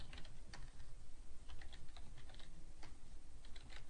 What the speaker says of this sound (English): after the word blue, I'm just going to type a semicolon and type another